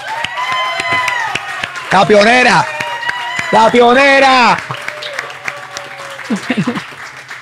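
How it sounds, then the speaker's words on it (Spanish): Loud studio audience applause and cheering swell in bursts, with a person talking and laughing over the clapping. "Aplausos, aplausos."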